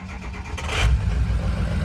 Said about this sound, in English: very good sounding truck. It's not overly loud. It's straight 4-inch exhaust.